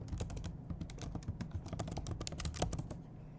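Fingers tap rapidly on a computer keyboard, a dense stream of close, crisp clicks with brief uneven pauses and no voices.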